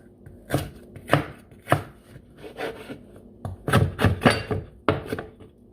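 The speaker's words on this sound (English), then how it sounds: "I'm gonna cut my pepper and my onion now" A knife chops pepper and onion on a cutting board in a series of sharp, close, uneven knocks, with a quick burst of cuts near the end.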